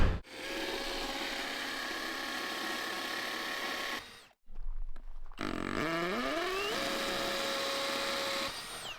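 A jigsaw cuts pre-finished plywood with a loud, steady buzzing whine. It stops briefly, then restarts with a rising pitch before settling back into the cut.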